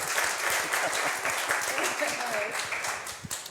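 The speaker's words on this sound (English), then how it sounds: "Let's give a round of applause for that beautiful song that the composer put together for the couple." Wedding guests in Las Vegas applaud a song written for the couple, with steady dense clapping throughout and voices talking faintly underneath.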